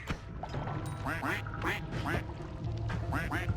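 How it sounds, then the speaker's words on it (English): Repeated duck quacks from the Noita video game, a rapid series of bright nasal calls over a steady game soundscape with a low hum, loud and close, with some speech-like noise mixed in. "Ducks for days. Quack, quack."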